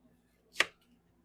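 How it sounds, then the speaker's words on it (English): A single sharp knife chop dicing an onion on a cutting board, close and crisp in an otherwise quiet kitchen. "I'm going to get my onion diced up"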